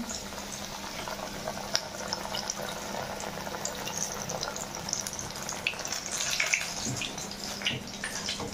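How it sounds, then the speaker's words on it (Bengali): A gram-flour-battered fritter frying in hot oil gives a steady, close, crackling sizzle that continues evenly throughout. "এবার ভেলাটা ছেড়ে দেবো। তেল গরম হয়ে গেছে"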